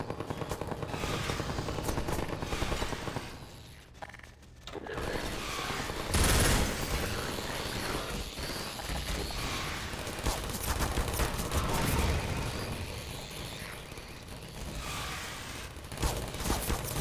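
Rapid turret gunfire in Half-Life 2 RTX, dense crackling bursts that run almost continuously at moderate loudness, with a short lull and a few heavier thumps, amid a busy game soundscape.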